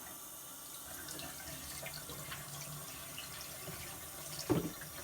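Warm water runs steadily from a tap over aquarium decorations being rinsed in a sink, a continuous close splashing hiss with a brief louder gush near the end.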